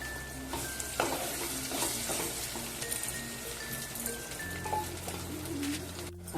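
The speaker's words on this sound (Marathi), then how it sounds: "कांदा आता चांगला लालसर भाजून घ्यायचा आहे आपल्याला." Finely chopped onion frying in a pan for a village-style cluster bean curry, a steady close sizzle with scrape-and-clatter of a spoon stirring at intervals and a knock at the end.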